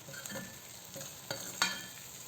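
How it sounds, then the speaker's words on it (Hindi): Diced potatoes with cumin stirred and fried in a pan, soft scraping stir strokes over a low steady sizzle, close and fairly quiet with a few sharper spatula scrapes. "हल्के हाथों से भूनते रहिए।"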